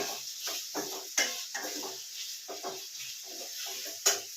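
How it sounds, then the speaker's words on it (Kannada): Spices for sambar fry in a pan, a faint steady sizzle broken by repeated soft scraping strokes of a spoon stirring, with a couple of light metallic taps on the pan. "ಎಷ್ಟು ನೀಟಾಗಿ ಈಗ ಫ್ರೈ ಮಾಡ್ಕೊತಾ ಇದ್ದೀನಿ"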